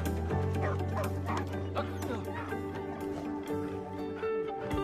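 A dog in search and rescue training barks and yips repeatedly in quick bursts, close and fairly loud over a steady low background hum, with some whimpering between barks.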